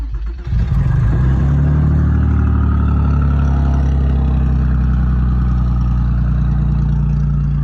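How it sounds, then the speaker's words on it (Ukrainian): A Porsche's engine cranks and catches, then settles into a steady, loud, close-up running hum with a deep rumbling tone that holds without a break. "Машинка заводиться, глушиться."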